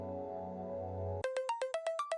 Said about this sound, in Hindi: तभी अचानक नियति का फोन बजता है